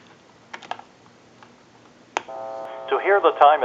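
A Mickey Mouse Tyco backpack telephone gives off a few clicks and then a steady dialing tone, followed by a quick run of warbling tone bursts, close and fairly loud.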